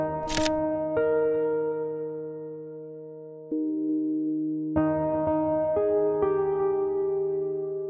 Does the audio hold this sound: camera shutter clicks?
yes